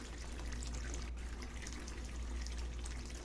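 Steady, full rush of bath water pouring continuously at close range in a Fortnite Creative horror game, loud and unbroken from start to finish, with no talking.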